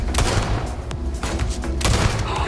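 A Prime rifle fires from the hip in Starfield, a rapid burst of loud, punchy shots with booming low-end, continuous for a couple of seconds.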